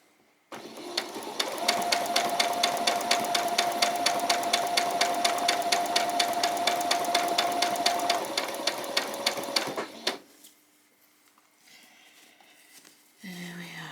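A sewing machine stitches lace onto a butterfly and bee outfit, running fast and loud with a rapid even needle rhythm for about ten seconds, then stopping abruptly before quieter handling sounds.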